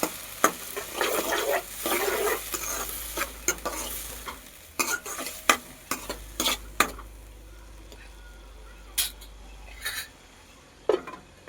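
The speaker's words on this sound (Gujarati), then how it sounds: "હવે આપણા તેલમાં મરચાં અને ટમેટો સડે છે, આ રીતનું સડવા દેવાનું।" Green chillies and tomatoes frying in oil for masala Maggi, a soft sizzle broken by sharp spoon scrapes and knocks against the pan, busier at first, then quieter with sparse clinks, close and without talk.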